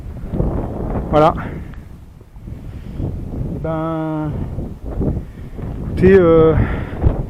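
Wind gusts around an abandoned holiday camp building, a rough, blustery rush buffeting the microphone beneath someone speaking French at close range.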